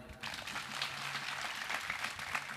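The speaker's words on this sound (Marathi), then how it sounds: "टाळ्या वाजवून एकदा" A crowd claps continuously at a Shiv Jayanti celebration, a dense, even wash of applause that carries on without pause.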